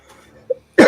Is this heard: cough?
yes